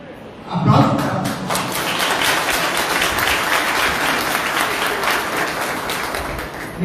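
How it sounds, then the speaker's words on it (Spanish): Loud applause from an audience at a tribute event, starting with a thump and swelling into a steady, dense clapping that continues throughout, with some voices mixed in. "Aplausos."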